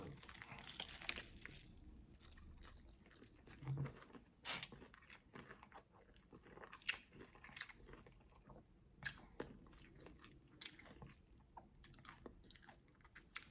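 Someone bites into crunchy, oily fast-food fried chicken and chews it close to the mic, with quiet crackling crunches and soft wet chewing that come in irregular bursts.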